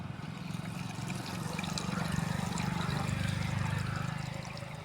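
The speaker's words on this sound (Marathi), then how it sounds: "आता हा कॉक चालू केला म्हणजे काय होते, प्रत्येक ऊसाच्या मुळापर्यंत आणि प्रत्येक सरीला हे आपलं पाणी जाणार आहे." Irrigation water rushes from an opened valve into the furrows of a sugarcane field, a steady gurgling flow that swells slightly in the middle and continues without talk.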